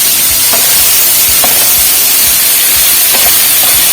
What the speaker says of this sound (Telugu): నూనె వేసేసి కొంచెం చాలు బీరకాయ ముక్కలు వేసేసుకోవాలన్నమాట